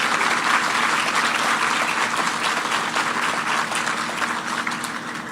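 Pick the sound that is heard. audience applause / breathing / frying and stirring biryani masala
audience applause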